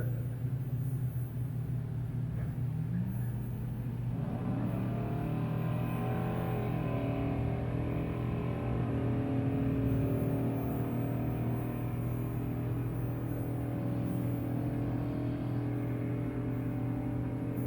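An AMC Javelin and another car race down a drag strip at a Wednesday night drags event, a steady engine rumble that builds into a louder, rising roar midway through and holds to the end.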